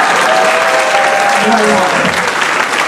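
Audience at a forum applauds, a steady loud wash of clapping throughout, with a voice speaking briefly over it.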